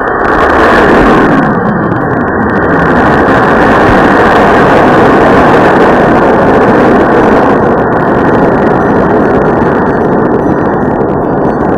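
A toy robot rocket's ignition and launch effect plays as a loud, continuous engine-like roar that stays steady for about twelve seconds, close and alone without speech.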